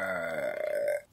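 A long, drawn-out human burp rumbles loudly and close for about a second, its tone sliding slightly before cutting off abruptly.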